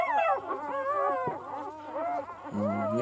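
Nervous, trembling puppy whimpering and whining in a string of wavering high cries, close and fairly loud, with no talk over it.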